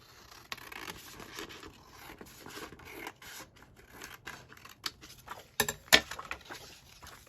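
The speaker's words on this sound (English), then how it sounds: "So I'm just going to cut this down here." Scissors cutting paper for envelope crafts, a quiet series of soft snips and rustles with a couple of sharper cuts near the end, close and faint.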